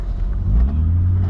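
A supercharged BMW E36 M3 engine drones while driving, giving a deep, steady low rumble from inside the car for a brief moment, with no talking.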